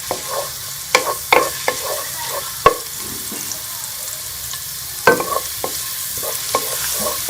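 Garlic frying and being stirred in a pan, with a soft steady sizzle and several sharp scraping clicks of the spoon against the pan throughout.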